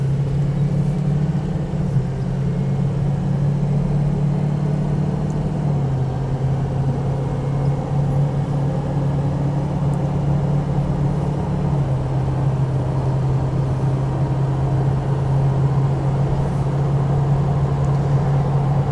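A 2005 Ford Excursion Eddie Bauer with a 6.0L Powerstroke diesel and 4WD drives along with a steady engine drone from inside the cab, its pitch dropping smoothly at two gear shifts with no voices.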